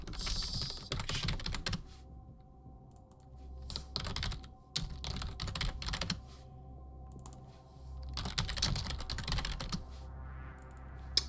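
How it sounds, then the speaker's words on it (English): Computer keyboard typing close to a microphone during a game development stream, with bursts of rapid keystrokes separated by short quiet pauses. "Sorry if the keyboard noise is a little loud."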